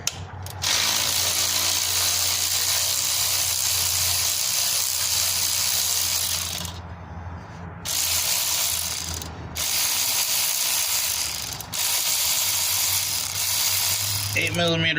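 An 8mm ratchet works on the fuel rail bolts of a Dodge 4.7L engine, its rapid clicking sounding loud and close in long runs broken by short pauses.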